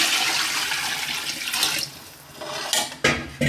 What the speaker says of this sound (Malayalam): ആ കണക്കിൽ ഞാൻ വെള്ളം എടുക്കുന്നു.